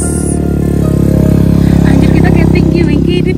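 A motorcycle engine runs loudly and close on the road near Bukit Teletubbies by Bromo, a steady low drone that swells slightly while people talk over it.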